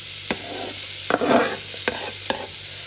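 Garlic is added to a pot of chopped tomatoes for homemade Italian tomato sauce, setting off a close, hissing sizzle with several sharp knocks and scrapes of a spoon stirring the pot.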